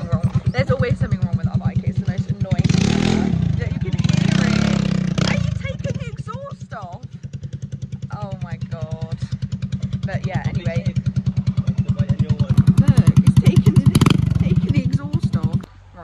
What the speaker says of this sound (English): And then my motorbike now is so annoying now. Yeah, I think our exhaust is there's something wrong.